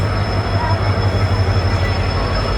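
The Coromandel Express rolls into a station platform with a steady loud rumble and a faint thin metallic whine from the wheels, continuous throughout without pause.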